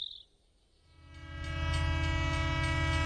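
A cartoon train rumbles in and grows louder over a couple of seconds, its sustained horn blaring close and loud as it arrives, after a brief high chirp at the start.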